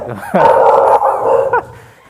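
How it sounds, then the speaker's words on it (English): A dog howls and yips in a drawn-out, wavering cry during a Shabbat service, loud and close, breaking off and rising again before it fades. "I guess the dog's doing the responsive reading"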